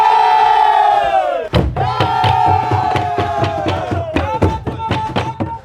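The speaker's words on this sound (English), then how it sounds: "You'll now hear the traditional Burundian music." Traditional Burundian music performed live: a loud chorus of voices chanting together, followed by heavy, steady drum strikes over sustained group singing and shouts.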